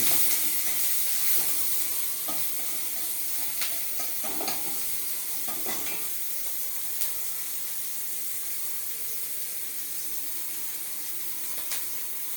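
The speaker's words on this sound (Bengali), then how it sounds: "রসুনটা হালকা লাল লাল ভাজা হলে তার সাথে দেওয়া হচ্ছে কাঁচা লঙ্কা কুচি।" Chopped garlic and green chili fry in a pan with a soft, continuous sizzle, a few stirring scrapes early on, then settle into a quiet, even hiss.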